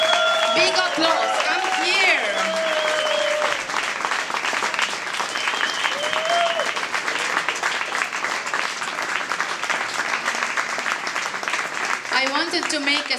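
An audience at a World Cleanup Day award ceremony applauds in a sustained wash of clapping that lasts throughout, with voices speaking over it at moderate volume.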